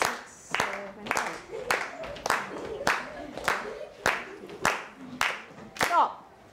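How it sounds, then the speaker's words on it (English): A classroom group claps a counted rhythm together, about nine loud unison claps at an even pace, each with a slight ringing tail, while a voice counts and talks over the beat. "We're going to clap the 16."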